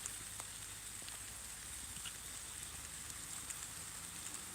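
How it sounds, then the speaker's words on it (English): Rain falls during an outdoor walk, a faint, steady patter with scattered drop hits, heard alone without voices. "And that's raining for real."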